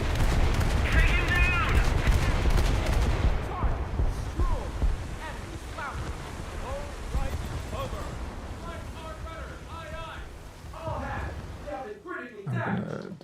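Rapid bursts of anti-aircraft gunfire from a US coastal warship in a naval combat game, steady rattling through the first few seconds and then sparser, with someone talking over much of it.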